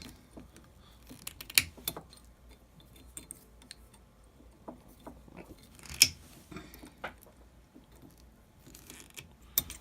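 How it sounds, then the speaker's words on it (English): Wire cutters snip through wires on a homemade Freddy Krueger glove, giving sharp, isolated metallic clicks at irregular intervals in a quiet room, a couple of them notably louder. "you're going to snip all these wires"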